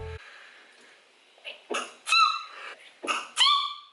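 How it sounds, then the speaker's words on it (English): Two sharp sneezes, each with a quick wheezy intake before the burst, loud and close in a quiet room. "I'm gonna sneeze."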